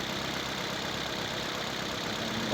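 A Toyota Vios single VVT-i engine idles steadily and evenly with no misfire, a close, continuous running hum that stays level throughout and swells slightly at the very end.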